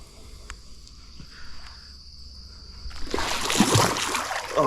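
Water flicked from a mossy stick at a private pond spatters down in a short burst of splashing and dripping. A quiet stretch with a steady insect whine comes before it.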